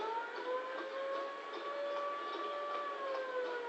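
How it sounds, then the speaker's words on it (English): An ambulance siren in the crime video game L.A. Noire wails with steady, slowly wavering tones that sound somewhat distant and fairly quiet, with no talking over it. "Pourquoi j'entends une ambulance?"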